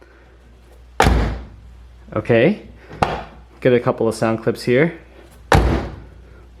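A stock-bushing car door on a Mazda Miata slams shut twice, each a sharp loud thud with a brief ring, the first near the start and the second near the end, with someone talking in between.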